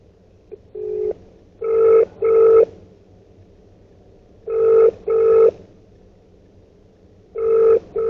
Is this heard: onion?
no